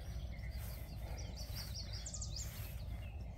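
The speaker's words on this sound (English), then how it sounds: "Yellow warbler, they always nest here." Yellow warbler song along a wet, seepy trail with lake sedge, willows and bald cypress: a few faint, thin high chirping phrases drift over steady low background rumble, distant and soft.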